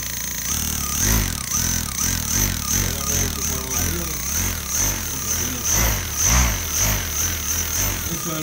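A car alternator converted into a motor and run by a bicycle controller gives a loud, close electric whine with harmonic tones that rise and fall as it speeds up and slows in repeated surges.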